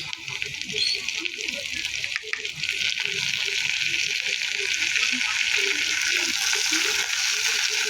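Food frying in a pan with spices, a continuous close sizzle and patter with soft crackling that holds steady and does not let up.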